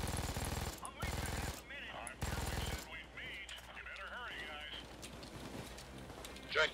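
An MG42 machine gun in the video game Payday 2 fires in loud, rapid bursts, three sharp volleys in quick succession, followed by quieter game noise with voices talking.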